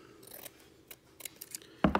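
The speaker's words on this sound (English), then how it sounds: "I'm going to use the ugly scissors." A pair of old scissors snips through stiff tarlatan dress fabric in several quiet, close cuts, followed by a louder final snip.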